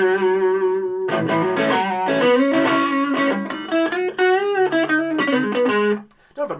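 Electric guitar played through a Carlton HGS100 amp with mild overdrive: a held note, then a run of gritty chords and single notes picked in quick succession, loud and close, trailing off into a few soft plucks at the end.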